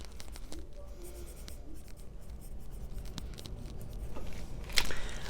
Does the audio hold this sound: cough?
no